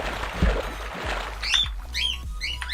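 Squawks from a bird in a Skyfactory game, three sharp calls in quick succession over a low, steady background rumble, fairly close and clear.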